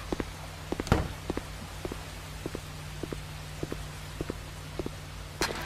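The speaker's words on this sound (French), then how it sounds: "Le bruit de pas est de plus en plus fort." Footsteps in the Eggs For Bart video game, a series of soft, evenly spaced thuds that draw closer and grow slightly louder over a low steady hum, with one heavier knock early on.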